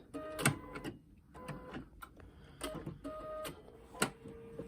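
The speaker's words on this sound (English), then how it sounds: "Stitch right along the edge there." A sewing machine straight stitches along the edge of a fabric face mask in short quiet bursts of rapid mechanical clicking, about four runs separated by brief pauses, close but faint.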